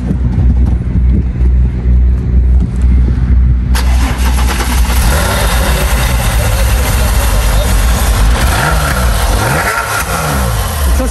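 A Porsche 996 GT3 engine cranks and fires partway through, jumping from a low rumble into a loud, raspy idle that keeps running close by, with voices chatting alongside.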